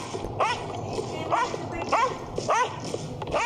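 A dog in a video game barks repeatedly in sharp, evenly spaced yelps, fairly close, over a low background murmur.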